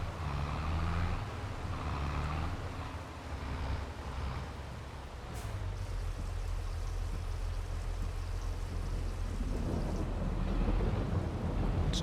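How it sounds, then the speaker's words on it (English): Steady rain pours down in Farming Simulator 22 on the French orchard Haut-Beyleron map, a continuous hiss over a deep rolling thunder rumble that holds throughout, with no voices. "while I'm fast forwarding to get past the rain"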